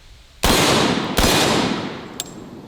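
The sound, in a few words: Typhoon F12 12-gauge shotgun firing Sterling double-aught buckshot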